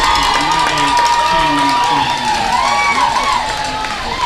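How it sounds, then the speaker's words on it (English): A large, mostly student crowd cheers and roars at a high school baseball semifinal between the Saints and U-High, a steady loud wash of voices that holds throughout. "Huge Saints crowd here as the students were dismissed from school today to attend the semifinals"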